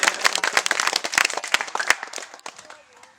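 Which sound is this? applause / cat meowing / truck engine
applause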